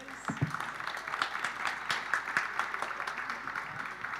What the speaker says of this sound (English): An applause, I think,